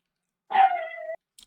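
A single drawn-out bark from a dog in the room, close and fairly loud, rising sharply and tailing into a whine before a brief click, with no one talking.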